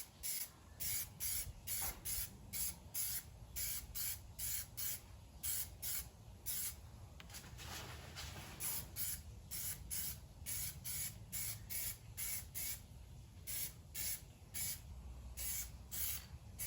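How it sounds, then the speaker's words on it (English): Plasti Dip is sprayed from an aerosol can onto a Toyota Tacoma in short repeated hissing bursts, quiet and close, with a few longer passes between the quick pulses. "just gonna kind of lightly spray it on"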